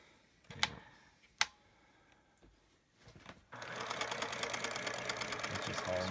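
Kenmore 158.19811 cam-driven monogramming sewing machine, a few sharp clicks before the motor starts and then a steady, fast rhythmic whirr of stitching close by.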